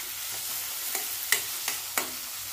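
Dal sautéing in hot oil in a pan before chopped cabbage goes in: a close, continuous sizzle broken by four or five sharp scraping strokes of a spoon, with no voices.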